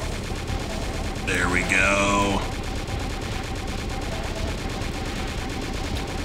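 Rapid, continuous chain gun fire from a first-person shooter video game, a steady mechanical stream of shots throughout, with a short spoken remark over it partway through.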